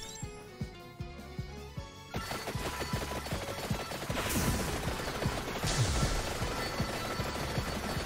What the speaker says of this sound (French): il fait des feux d'artifice le rune tracer maintenant ?